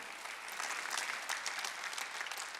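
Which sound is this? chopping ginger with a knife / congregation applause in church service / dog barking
congregation applause in church service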